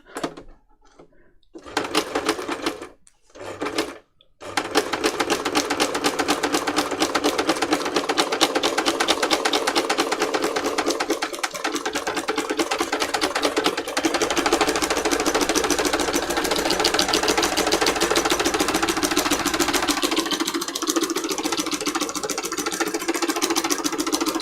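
A sewing machine does free motion embroidery of a flower on acetate for a junk journal cover, starting with a few short bursts and then running as a fast, steady, close stitching whir.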